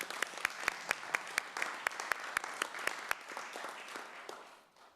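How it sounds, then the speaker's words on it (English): A small group at a city council meeting claps for Curtis Irvin, with sharp distinct rhythmic claps standing out over scattered softer ones before the applause fades out. "I would like us to have a round of applause for Curtis"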